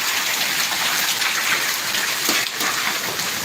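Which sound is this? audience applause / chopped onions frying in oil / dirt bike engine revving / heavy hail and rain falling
heavy hail and rain falling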